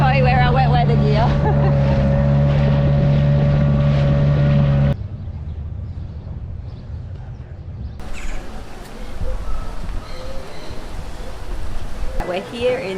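A small boat motoring in toward shore in wet, windy conditions near La Paz, its engine droning loudly at first, then dropping away to wind buffeting and water splashing, with brief talk near the end.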